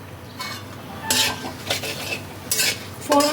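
Potatoes stirred in hot oil with fenugreek and radhuni seeds for a bitter gourd and bottle gourd dal, a spatula scraping and clinking against the pan in short bursts over a low sizzle, with no talking.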